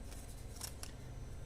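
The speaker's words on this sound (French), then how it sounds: "je vais prendre mon gros ciseau à tissu, ça sera peut-être plus pratique pour couper le ruban au plus près" Large fabric scissors cutting ribbon, a few quick, faint snips close up against a low background hum.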